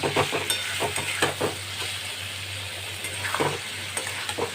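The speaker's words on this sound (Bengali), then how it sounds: "সয়াবিনগুলো আমি দই মশলা দিয়ে যেটা মাখিয়ে রেখেছিলাম সেটা আবার আমি দিয়ে দিচ্ছি দিয়ে এটার সাথে খুব ভালো করে আমি কষিয়ে নেব" Soybean chunks coated in a yogurt and masala marinade are stir-fried in a pan, with a constant close sizzle broken by repeated scraping strokes of a spoon, and no one speaks.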